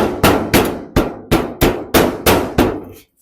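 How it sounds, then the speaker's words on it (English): Eight sharp, evenly spaced hammer blows striking a block of wood held against a dent, loud and close, each with a short ringing decay, then silence. "Hitting it with the hammer."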